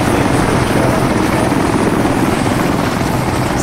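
A helicopter in the military video game Arma 3 roars steadily and loudly throughout, a dense continuous rotor and engine drone with no talk over it.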